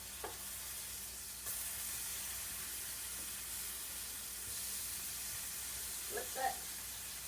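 Tomatoes frying in butter in a pan give a steady, soft sizzle and hiss throughout, with a couple of brief scraping clicks as the pieces are turned.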